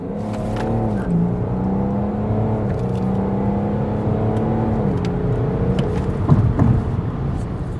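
A Stage 3 tuned BMW 530d M-Sport diesel pulls hard under acceleration, its deep, grunty engine note rising through gear changes with a steady rumble and turbo whir throughout, moderately close and without speech.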